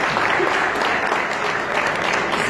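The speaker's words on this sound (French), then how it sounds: "que je vous demande d'applaudir." Audience applause at a university faculty talk by a photographer, a dense steady clapping that fills the room evenly from start to finish, with no voices standing out.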